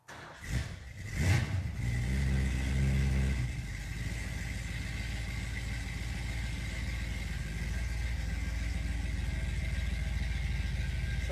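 A car engine cranks briefly, catches and revs up, then settles into a steady, close idle that runs on alone.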